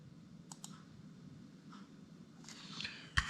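A computer mouse clicking during a firmware flashing setup for a Mikrotik hAP ac lite router, a few quick close clicks over a faint hum, with a louder burst of clicks near the end.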